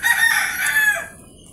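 A rooster crows once, a loud, drawn-out cock-a-doodle-doo close by that trails off into quiet at the end.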